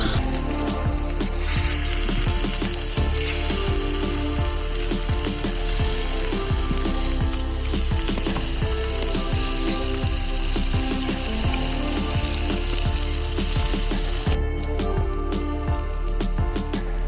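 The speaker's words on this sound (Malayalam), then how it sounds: "എന്നിട്ട് നമ്മുടെ കൊഞ്ച് ഓരോന്നായിട്ട് അതിലേക്കിട്ടു ഫ്രൈ ചെയ്യാനായിട്ട് വെച്ചു." Prawns frying in hot coconut oil with mustard seeds, a loud continuous sizzle with dense crackling pops throughout, close and steady for the whole stretch.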